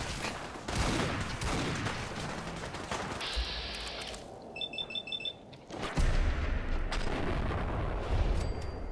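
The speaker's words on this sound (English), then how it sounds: "This Deagle is ridiculous. It just feels as powerful as it sounds." A Desert Eagle pistol fires in the video game Fallout 4 amid a loud battle, with heavy booming shots and crackling bursts, a brief lull with faint electronic beeps, then more sustained heavy gunfire.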